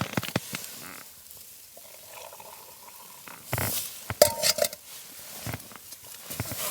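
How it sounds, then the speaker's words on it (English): A spoon stirring a pot of rapidly boiling food over a camp stove at a snowy winter mountain camp, with wet scraping and sloshing strokes up close and bubbling in the background. "I've got to give it a stir."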